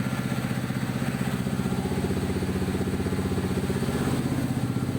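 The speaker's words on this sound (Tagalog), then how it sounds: "So, pinapakinggan rin natin yung makina." A pit bike engine idles after ECU tuning, a steady, even low putter with a slight clattery edge that runs unbroken and close at a constant level.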